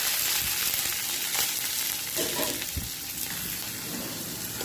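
Dried red chillies and onions sizzle in hot oil in a pan for idli upma, giving a steady close crackle with a few stirring scrapes and no talk.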